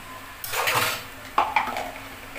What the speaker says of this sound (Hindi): इसको अच्छे से भूनेंगे।